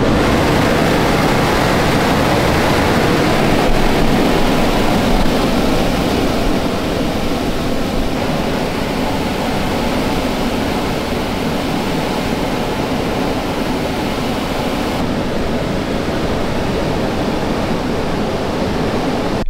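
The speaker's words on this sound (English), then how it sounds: "So I'm gonna put it to use and use it to blow air into my radiator" Foam party machine blowing air into the radiator duct of a Toyota FRS, a loud, steady rushing whoosh of wind that runs unbroken with no speech.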